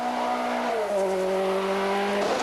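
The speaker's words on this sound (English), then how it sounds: "The Peugeot still looking and sounding undramatic as it shoots off down the stage" A Peugeot 205 Turbo 16 rally car pulls away down a forest rally stage, its engine note holding a steady tone that drops as it shifts and draws off, loud and continuous with no talk.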